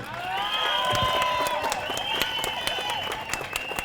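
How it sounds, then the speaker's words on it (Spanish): Applause and some cheering from a crowd at a Bogotá campaign event for the city's mayor, steady and fairly loud with overlapping voices and a tonal ringing layer running through it. "Un saludo muy especial para nuestro alcalde de Bogotá. Un aplauso."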